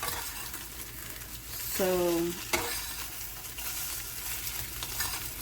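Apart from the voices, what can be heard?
eggs with chorizo frying in a pan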